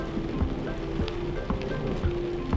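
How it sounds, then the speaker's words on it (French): Rain falling outdoors in a children's animated cartoon, a steady dense patter with scattered heavier drops, continuous and moderately loud with a faint tonal hum underneath. "Théo, Didi, regardez, il pleut vraiment."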